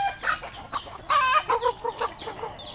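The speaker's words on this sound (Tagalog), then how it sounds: "may bago naman guys na inahin" Hens cluck close by in short, uneven bursts, with quiet gaps between calls and no talking.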